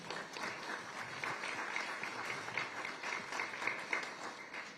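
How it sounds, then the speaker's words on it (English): Steady applause from a crowd, a dense patter of many hands clapping at moderate distance, continuing throughout without a break. "if we could give them a round of applause"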